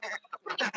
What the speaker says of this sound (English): On that side, you can hear the ducks.